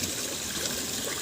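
Water from a ramp pump fed by a river flows in a steady, continuous rush with broadband splashing, close and fairly loud, with no voices over it.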